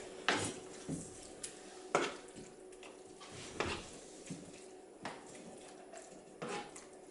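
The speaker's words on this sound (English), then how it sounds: "Give that a good stir." A spoon stirs peas into shepherd's pie filling in a pot, giving several separate clinks and scrapes against the metal at an uneven rhythm, faint and close, with no voices.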